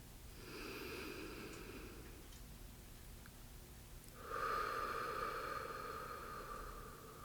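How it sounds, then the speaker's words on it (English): Slow deep breathing in and out, a soft airy inhale followed by a longer, louder breathy exhale, close and steady over quiet background hiss. "Take a slow breath in and a slow breath out."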